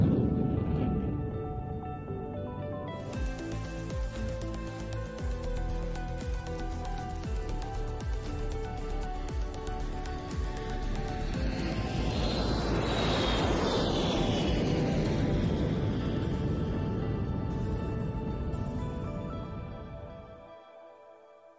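A Belgian Air Force F-16 flies a display at an air show, its jet engine a continuous loud roar that swells as the fighter passes overhead, then fades away.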